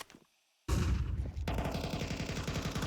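A Counter-Strike round on Mirage erupts in an AK rifle versus USP pistol duel: after near-silence, loud rapid gunfire bursts in, then settles into a steady stream of close, rattling shots.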